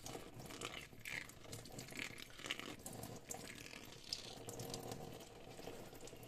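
Banknotes are washed by hand in water to clean off mould and dirt, making a faint, continuous splashing and sloshing with soft rubbing and dripping throughout.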